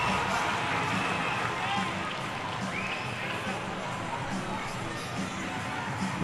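Arena crowd cheering at a minor-league ice hockey game between Columbus River Dragons and Port Huron Prowlers, a broad continuous roar with scattered shouts, steady and somewhat distant under a commentator's voice.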